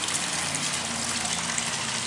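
Water gushing steadily from an artesian spring inside a pavilion, a continuous even rush of flow with no breaks and no voices.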